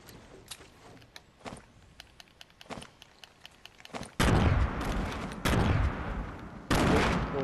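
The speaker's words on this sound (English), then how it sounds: "It's me throwing nades." Grenades burst in a Fortnite duo match: scattered sharp gunfire cracks early on, then three loud, broad explosions roar in close succession, each blast rumbling for about a second.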